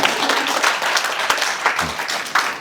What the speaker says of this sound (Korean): 박수 쳐주십시오.